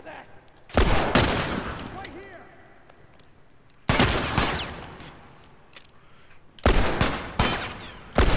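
Gunfire in The Last of Us, three loud close bursts of shots spaced a few seconds apart, each with a sharp attack and a decaying echo into quieter gaps.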